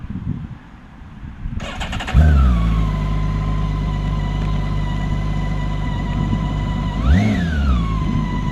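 A BMW K1600 GTL motorcycle's six-cylinder engine starts with a crank, settles into a steady, smooth idle, and gives one quick rev blip before falling back to idle.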